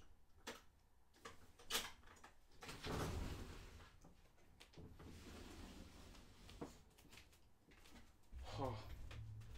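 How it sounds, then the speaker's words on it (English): A door is opened indoors on a hot day, a short scrape and rumble of movement partway through, with scattered knocks and clicks around it and a person talking nearby. "I'm gonna open the door"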